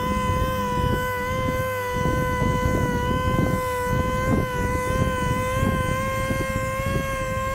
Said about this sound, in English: we're gonna be using our DA sander, and we have an interface pad